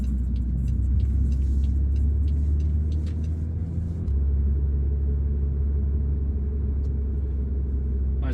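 A car driving on a road during a driving test, its engine and tyre noise a steady low rumble inside the cabin that carries on without a break while it turns onto another road.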